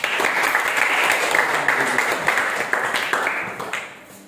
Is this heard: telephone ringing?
no